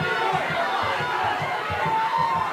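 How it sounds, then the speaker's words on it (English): Arena crowd at an MMA fight roaring and cheering loudly and continuously, a dense wash of voices with a steady pulsing rhythm beneath. "This crowd is going nuts right now, as they should be."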